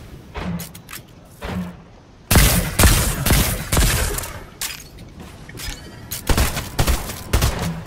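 Bursts of gunfire in a video game arena duo fight, sharp cracks in quick volleys after a quieter opening, loud and close with scattered impacts.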